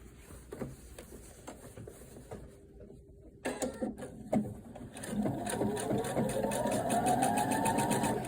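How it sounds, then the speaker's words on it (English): A sewing machine stitches closed the elastic casing of a homemade bonnet or scrunchie. After a brief quiet gap it starts up close, and its motor whir runs steadily and builds in pitch until the end. "first thing you're going to do is stitch to close up your elastic casing"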